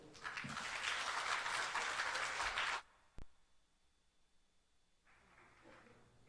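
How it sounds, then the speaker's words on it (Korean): Audience clapping at a small outdoor memorial concert for the Sewol ferry victims, a dense burst of applause lasting under three seconds before cutting off, followed by a sharp knock and quiet room ambience. "박수 부탁."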